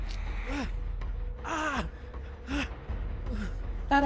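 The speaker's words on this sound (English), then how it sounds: "Thought I heard breathing." Ragged, breathy gasps and moaning exhalations from a stalking creature in a horror video game, several rising and falling breaths in a row over a low, steady background rumble.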